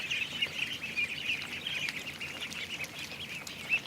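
A Muscovy duck in a yard gives faint, repeated soft calls at a low level, spaced irregularly over a quiet outdoor background.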